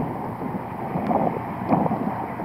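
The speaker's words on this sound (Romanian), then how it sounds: "e vântul cumva vicios, bate dinspre mal" Gusty wind blowing from the shore buffets the microphone in a steady, rough roar, with faint splashing of sea water underneath at Astoria beach, Eforie Nord.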